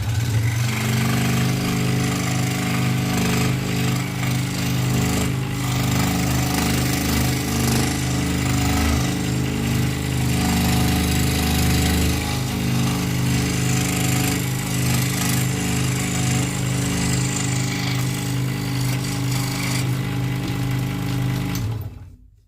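A scroll saw cuts wood for an Avengers-themed piece, giving a loud, continuous buzzing motor drone with a rapid reciprocating chatter that runs steadily for about twenty seconds, then cuts off.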